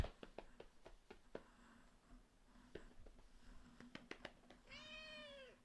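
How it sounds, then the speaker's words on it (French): A cat gives one drawn-out, clear meow near the end, preceded by scattered soft tapping and rustling in a quiet indoor room. "Oui, petit chat?"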